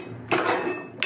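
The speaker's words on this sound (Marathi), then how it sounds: "हे बघा मी कंटिन्युअसली शेंगदाणे मिठामध्ये हलवत आहे." Peanuts roasting in salt rattle and scrape as they are stirred around a pan, a brief grainy clatter with a sharper clink at the end.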